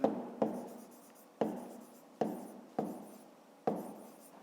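A pen writes on paper in a series of about seven short strokes, each starting with a crisp scratch that fades, close up and alone.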